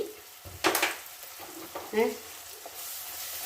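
A spoonful of coriander powder fries in a pan, with a low sizzle running underneath and a couple of louder stirring clatters as it is mixed.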